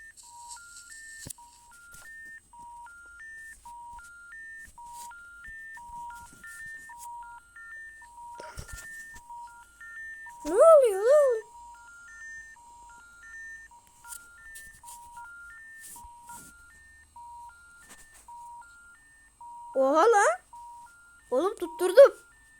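Telephone dialing tones, a long repeating series of soft beeps running under quiet background, interrupted by a few short louder bursts of a voice.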